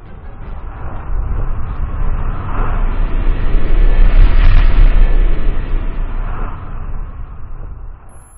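Atomic bomb explosion sound effect, Hiroshima: a massive deep rumbling blast that swells to a roaring peak midway and slowly rolls off over several seconds, loud and boomy.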